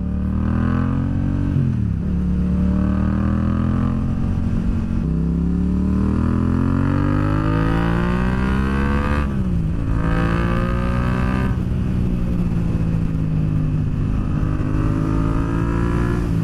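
A Yamaha MT-07 motorcycle being ridden, its engine note rising and falling through repeated revs and gear changes, loud and close throughout with no talk.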